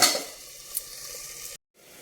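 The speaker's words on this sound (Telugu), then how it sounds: "ఉల్లిపాయ చక్కగా మగ్గిపోయిందండి, ఎర్రగా వేగిపోయింది" Onions frying in a pan for a Telugu black-eyed pea (alasanda) stir-fry, giving a steady close sizzle with a light clink of utensils, cut off briefly by a short silence near the end.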